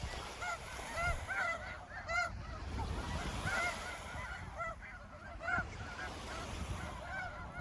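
Snow geese at Iona honk as a small group takes off, a chorus of repeated nasal calls overlapping against a constant low wash of background noise.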